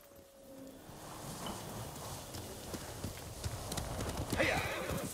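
Horse hooves clop at a steady gallop while riding in Ghost of Tsushima, rising in loudness toward the end, with faint rustling and a brief whinny-like cry near the close.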